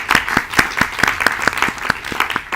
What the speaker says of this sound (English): a big applause to you and your team